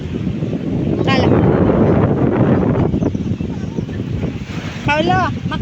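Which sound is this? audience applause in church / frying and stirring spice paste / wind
wind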